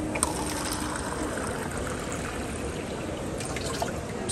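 Zamzam water trickling steadily in Mecca, a soft continuous splashing stream heard up close with faint background hubbub, no clear talk.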